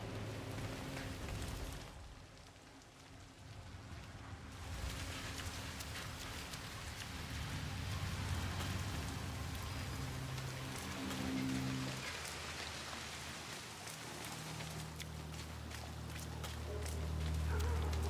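Steady rain falls in the game Hitman: World of Assassination, a continuous broadband hiss of drops on surfaces with low background rumble running throughout.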